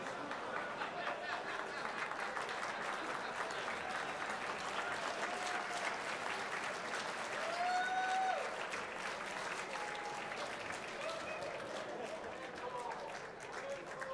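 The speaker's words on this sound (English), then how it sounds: "it got applause from everybody, and Shane was laughing." Sustained audience applause fills a billiards hall during the 2007 U.S. Open pool final between Shane Van Boening and Ronnie Alcano, steady clapping throughout with a brief swell, while a commentator's voice runs underneath.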